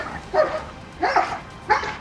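A protection K9 dog barks during bite training, giving three loud, close barks spaced evenly apart with no talk over them.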